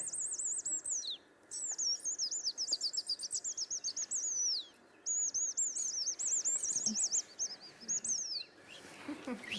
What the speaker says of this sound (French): Alors, roitelet, c'est le plus aigu. C'est presque des ultrasons.